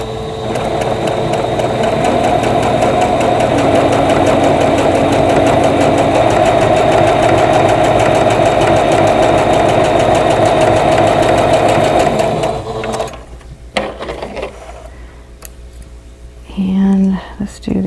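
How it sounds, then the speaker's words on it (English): Sewing machine stitching a quarter inch seam down a fabric strip, a fast steady motor whir and needle rattle running continuously up close, then stopping to leave quieter handling sounds and a brief voice. "We just sew with a 1/4 inch seam allowance down each side with the darker fabric in the center."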